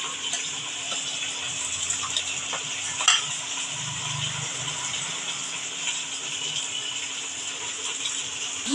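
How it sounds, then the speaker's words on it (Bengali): Rice and lentils tipped into a pot of water near the boil for a vegetable khichuri, a steady bubbling hiss with a brief clatter and splash partway through. "এখন আমি চালগুলো ছেড়ে দেবো, চাল আর ডাল।"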